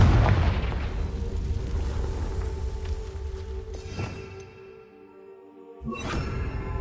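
A Confringo blasting spell from Hogwarts Legacy detonates with a heavy booming explosion and rumbling tail, which fades to near quiet before a second sharp blast erupts near the end.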